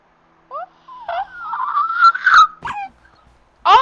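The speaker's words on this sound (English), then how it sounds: "I found a real dog." A dog in a video game whimpers in a string of high, wavering whines and short yelps, close and fairly loud, with brief pauses between them and no talking.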